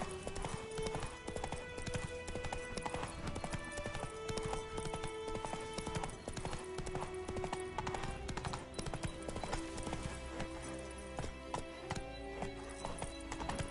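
Roach, the horse in the Witcher 3 game, walks with a steady clip-clop of hooves, faint and continuous over a busy game soundscape, with an occasional whinny and some talking in the background.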